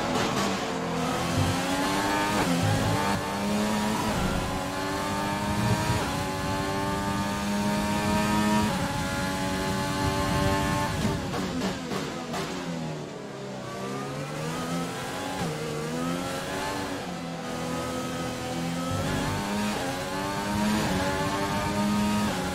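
Formula 1 cars race at the Australian Grand Prix in the F1 2020 video game. Their high, whining engines rev continuously, and the pitch climbs and drops through gear shifts as cars pass, with no talking.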